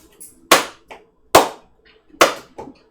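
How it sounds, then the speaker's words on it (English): Three slow, deliberate claps ring out one by one, spaced almost a second apart, each loud and sharp with a quieter echo or smaller clap just after, in an otherwise quiet room during a fantasy tabletop role-playing game. "Slow clap!"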